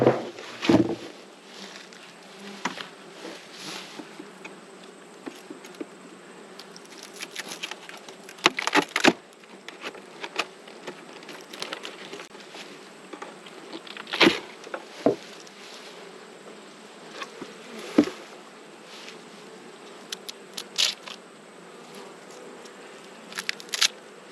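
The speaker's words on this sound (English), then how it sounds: "And there's still bees in there." A low, continuous buzzing of many honey bees in a hive, with occasional louder passes near the microphone and faint handling noises.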